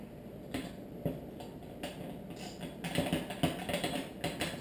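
Socket on a long extension and a torque wrench working on bicycle fork internals during fork assembly, giving close, irregular metallic clicks and ratcheting ticks over a steady low background.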